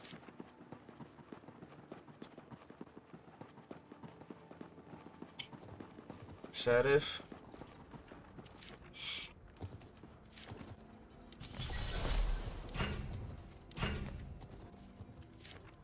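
Horse hooves clip-clopping in the medieval battle game Conqueror's Blade, a soft rhythmic trot under someone talking, broken by louder thumps and bursts of game noise partway through.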